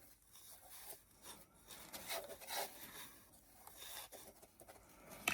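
A hand rubbing around a can during a primitive Christmas craft with Mod Podge, giving a faint, continuous scraping and rubbing texture in close, uneven strokes with no voices.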